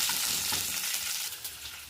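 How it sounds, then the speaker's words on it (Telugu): Mustard seeds, cumin, dried red chillies and curry leaves frying in oil for a tempering for amaranth leaf fry, giving a close, steady sizzle with faint crackles, no voices. "ఇప్పుడు ఇందులోనే కొంచెం కరివేపాకు వేసుకుందాం. బాగా ఫ్రై చేసుకుందాం."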